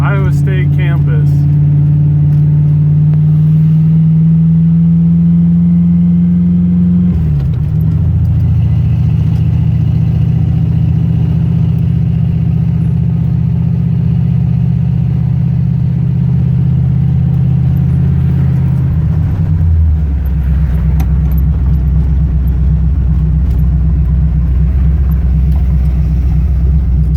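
A car cruises through the Iowa State University campus, its steady engine drone and road rumble continuous and close, shifting pitch as it slows or changes gear partway through.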